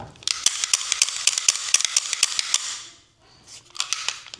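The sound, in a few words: P320 M18 pistol slide sliding back and locking into place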